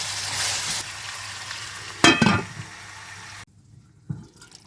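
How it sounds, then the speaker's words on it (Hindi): Mutton for achaar gosht sizzles and fries in a pan over low heat, a sharp burst of spluttering erupting midway before a lid goes on and the sound drops to a faint, muffled simmer. "अब हम इसे हल्की आंच पर ढकना देकर इसको कवर कर देंगे और इसको पकने देंगे"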